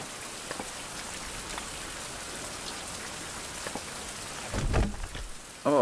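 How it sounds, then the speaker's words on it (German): Heavy rain drums steadily on surfaces outdoors, with a low rumble of distant thunder and a few louder splashes toward the end; no one speaks. "Sowas von ungelegen, der Regen jetzt."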